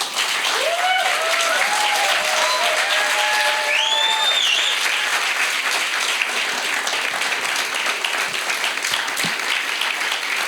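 Audience applause for a storyteller at a live storytelling event, a sustained wash of clapping from the crowd with a few whoops and cheers rising early on, then steady to the end.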